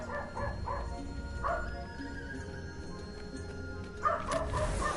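A real dog barking in the background during gaming, a few quick yapping barks early on, then a pause, then another short cluster of barks, fairly faint and distant.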